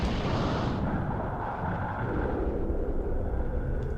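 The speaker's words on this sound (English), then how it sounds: "Shot him in the face with a grenade." A grenade explodes in the video game Dino Crisis 2 as a heavy, sustained rumbling blast that stays loud and dense for several seconds, its bright upper crackle dropping away after the first moment.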